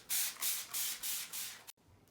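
Water sprayed from a hand spray bottle onto powder on a small watershed model, six loud hissing bursts in a steady rhythm, close up, then a sudden stop.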